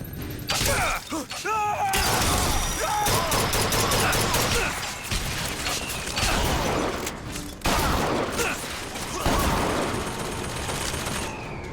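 Heavy gunfire in the video game Bioshock Infinite: dense, loud bursts of automatic fire and rapid shots crackle almost nonstop, with brief gaps, clanking mechanical noises and what sounds like shattering mixed in.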